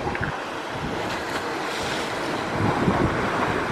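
Ocean waves wash and break continuously against a sea rock fishing spot off Okikuroshima island in Yonozu, Saiki, Ōita, at dusk, with steady wind buffeting the microphone and a slight swell late on; no one speaks.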